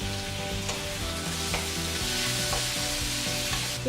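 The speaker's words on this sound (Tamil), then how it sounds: "தக்காளி கொஞ்ச நேரம் நல்லா வதங்கட்டும்." Tomatoes with curry leaves sautéing in a pan for rasam give a continuous close sizzle under repeated spatula scrapes, a fairly even texture with no voices present.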